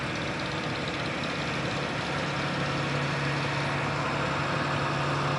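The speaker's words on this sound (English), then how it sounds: "Here comes that track tractor." A John Deere 8400T track tractor rolls along in a county fair parade, its engine giving a steady, loud, continuous rumble with no pauses throughout.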